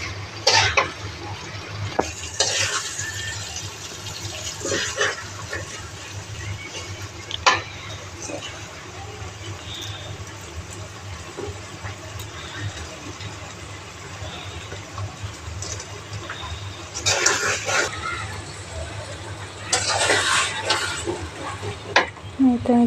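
Fish added to masala in a pan, with a steady low frying sizzle and several bursts of stirring and spatula scrapes against the pan, close and moderately loud.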